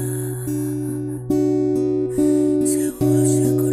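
Guitar arpeggio from a song, picked notes ringing in a steady, even pattern with sustained bass tones, clear and close with no talking.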